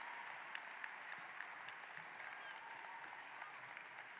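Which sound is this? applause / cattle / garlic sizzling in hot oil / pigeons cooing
applause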